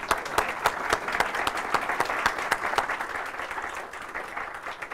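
An audience at a morning discussion event claps steadily in thanks to moderator Terry Glavin, dense applause that tapers slightly toward the end.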